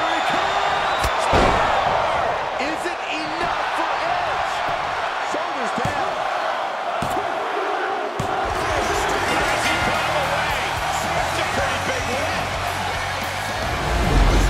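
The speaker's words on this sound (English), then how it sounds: "The sound of this crowd is deafening" A deafening wrestling arena crowd in AEW roars steadily throughout, with sharp impact thuds scattered through it and a commentator talking over the noise.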